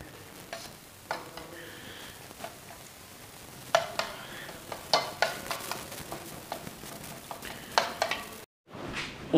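An egg frying in a pan on a home gas stove, with a steady soft sizzle under intermittent scraping and tapping of a utensil against the pan.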